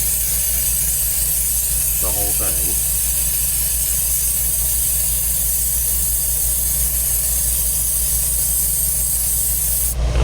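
Silicone spray hisses continuously onto a vacuum pump body under repair, a steady loud aerosol rush lasting the whole stretch, with a brief spoken remark early on.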